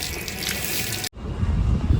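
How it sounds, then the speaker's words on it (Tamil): Water runs from a tap as a woman washes her hands at home, a steady trickle and splash that cuts out briefly midway, then resumes with heavier, lower splashing. "ஹெல்ப் பண்ணிட்டு வந்து இந்த மேடம் கை கழுவிட்டு இருக்காங்க"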